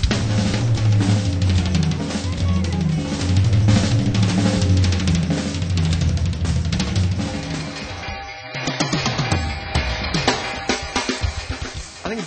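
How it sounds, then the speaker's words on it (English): A drum kit plays a dense, steady groove with bass drum added under busy hits and cymbals, loud throughout. The texture thins briefly near the end before the playing picks up again. "adding some bass drum."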